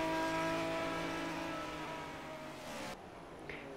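Aston Martin V12 GT3 race car engine in a racing video game, a loud sustained high-revving drone with steady harmonic whine that drops off sharply near the end, alone without talk.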